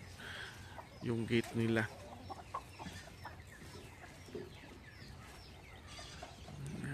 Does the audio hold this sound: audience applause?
no